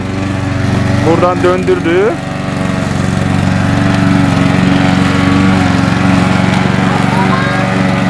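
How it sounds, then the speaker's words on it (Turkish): Lawn mower engine running steadily in a park, a continuous droning hum throughout with a person speaking briefly over it near the start. "Görüşürüz çim biçme makinesi."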